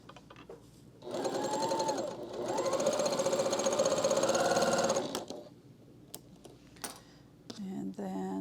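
Sewing machine stitching quilt pieces together, two bursts of fast mechanical whirring a few seconds long, close and moderately loud, followed by softer handling clicks and a brief voice.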